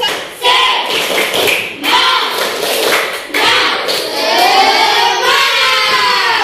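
Rhythmic patterned clapping by a class of Indonesian students, with several children's voices chanting along, loud and close in a classroom.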